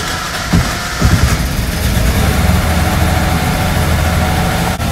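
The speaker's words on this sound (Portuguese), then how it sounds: "Ele está com a rotação alta do motor, ele inicia o motor com uma rotação mais alta." A Royal Enfield motorcycle engine, fuel-injected and prone to starting at high revs, fires up and settles into a steady, loud idle with a dense low rumble throughout, no talk over it.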